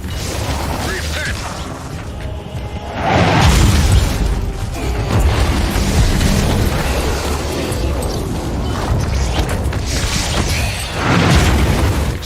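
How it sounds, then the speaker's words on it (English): Artillery strike in a video game, heavy booming explosions rumbling loudly in successive waves, with mechanical clatter and in-game radio chatter mixed underneath. "Artillery strike commencing."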